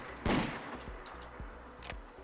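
MP412 Rex break-loading revolver fired in Fallout 4: a loud close shot early on, followed by a few sharper, quieter reports and clicks spaced apart, with no voices.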